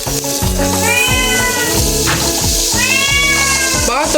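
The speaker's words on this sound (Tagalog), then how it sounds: "Hihingi ng pusa namin guys." A pet cat meows insistently near a sizzling pan while food cooks in margarine, giving several drawn-out rising cries over a constant frying hiss.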